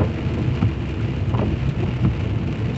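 Heavy rain pours steadily in Divinópolis, a dense hiss with low rumbling underneath that may be distant thunder, continuous and without speech.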